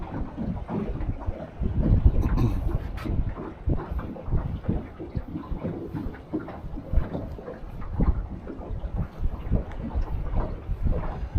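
Strong wind buffets and roars across the microphone on a fishing boat out on the water, a continuous gusting rumble that swells and eases throughout, with no talking.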